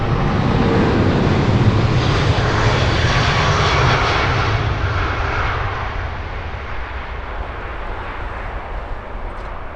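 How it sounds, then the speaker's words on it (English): A Virgin Atlantic Boeing 787-9 takes off and climbs out, its broad jet-engine roar loud and steady at first, then gradually fading as the aircraft pulls away. "Watch Virgin 19 heading out to San Francisco, beginning the climb out."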